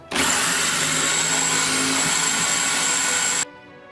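A loud, steady power drill whine drilling through two stacked metal saw blades, running continuously for a few seconds, then cutting off abruptly.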